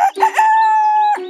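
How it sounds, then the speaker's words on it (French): A rooster crows once in a garden setting, a loud, close, drawn-out cock-a-doodle-doo with a rising start and a long sustained tone before trailing off, with no talk. "En la voyant, le coq se mit à chanter."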